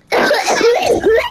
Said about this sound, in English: I'm about to cough so hard.